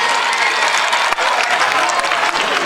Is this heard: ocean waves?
no